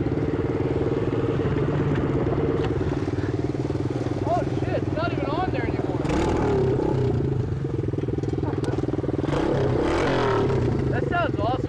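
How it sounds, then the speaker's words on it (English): An engine with its muffler removed runs on a straight-pipe exhaust, giving off a loud, constant, throaty drone with harsh overtones, while people talk over it. "That's the muffler coming off."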